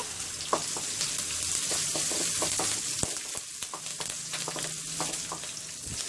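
Onion and fresh curry leaves frying in oil for a chutney, with a steady close hiss of sizzling oil and scattered pops and light stirring clicks throughout.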